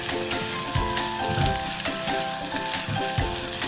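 Shallots, green chillies, curry leaves, ginger and garlic sizzle and crackle loudly in hot oil for a Kerala-style fish curry, with a spoon stirring through them in a steady rhythm.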